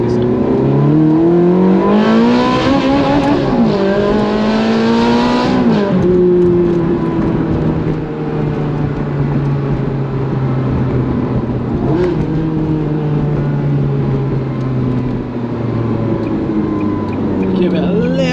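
A Ferrari 360 Challenge Stradale Spider engine revs loudly while driving, with rising and falling blips as the throttle opens, the engine note sustained throughout at close range; a voice talks over it.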